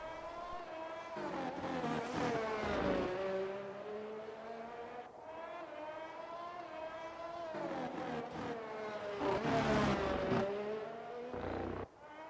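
A race car at full throttle around Circuit of the Americas, its engine note rising and falling through gear changes in a loud, sustained high-revving whine with no voices.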